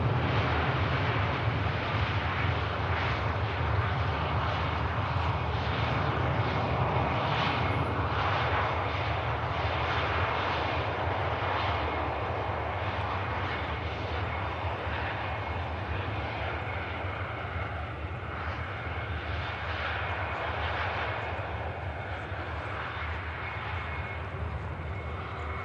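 An airliner rolls right past at Manchester Airport, its engines giving a loud, close roar that peaks early and then slowly fades, with some wind buffeting mixed in.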